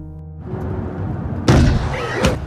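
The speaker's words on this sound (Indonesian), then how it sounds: "sehingga mobil mereka menabrak seseorang" A car strikes a pedestrian in the film Primal Rage: a low droning bed gives way to a sudden heavy thud and crash, then a second sharp impact moments later.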